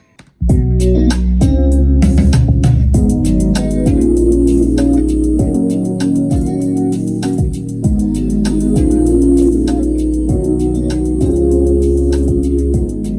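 A full band mix of a song: guitar, synth and layered vocal harmonies playing together over a steady beat, loud and continuous throughout.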